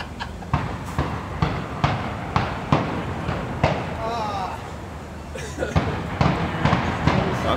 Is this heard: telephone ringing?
no